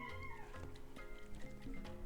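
Pet cat meowing close by, a couple of short tonal mews over a busy indoor background with no talk.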